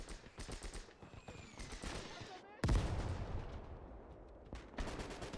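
Rapid bursts of gunfire and mortar blasts during a WWII convoy ambush in Gates of Hell, with repeated rifle and machine-gun shots, a heavy explosion midway and continuous distant battle noise under a voice.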